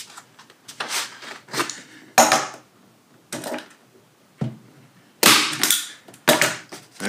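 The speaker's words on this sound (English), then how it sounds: "Come in with the staple gun." Staple gun driving staples through canvas into a wooden stretcher frame, several sharp loud snaps at irregular intervals, with quieter rustling of fabric being pulled taut between shots.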